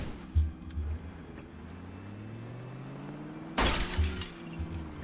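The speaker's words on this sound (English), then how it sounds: "I think that was my windshield." A car's windshield shatters in the video game Project Zomboid, a sudden bright crash of breaking glass over a steady engine drone while the car is driven through dense woodland undergrowth, with heavy thumps before and after.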